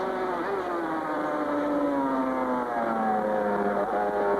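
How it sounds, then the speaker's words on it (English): A Honda 500cc Grand Prix racing motorcycle at the 1987 British GP screams at high revs with a sustained, loud, whining engine note that falls gradually as it holds speed on track. No voices are heard. "Listen to the Honda of Roger Burnett."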